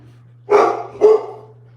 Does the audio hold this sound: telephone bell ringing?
no